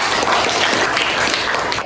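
Steady, dense clapping from a class of students fills the classroom, continuous and fairly loud for a couple of seconds before tapering slightly at the end.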